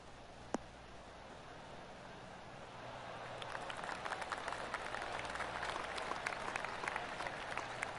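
Polite golf-gallery clapping in the video game PGA Tour 2K23, swelling from a quiet hiss into a soft, steady patter of many hands, faint and distant, after a single sharp click near the start.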